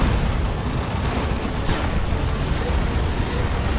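A Predator tank fires in a Dawn of War 2 battle, heard as dense, continuous booming and explosive rumble that stays loud and sustained throughout, with no clear gaps between blasts.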